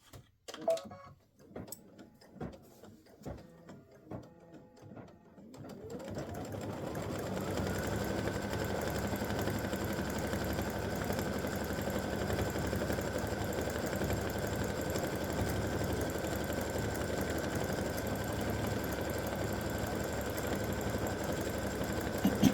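An embroidery sewing machine starts after a few seconds of scattered mechanical clicks and then stitches thread at a steady, rapid, continuous hum and rattle, close and unbroken to the end.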